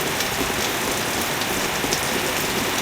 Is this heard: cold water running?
no